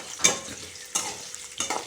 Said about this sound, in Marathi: कांदा गुलाबी आणि लाल कलरचा होईपर्यंत छान